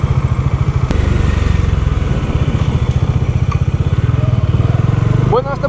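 A used Bajaj Dominar 400 motorcycle engine runs with a steady, loud rapid thumping pulse near the mic, a sharp click partway through like a gear change, and a voice joining briefly near the end.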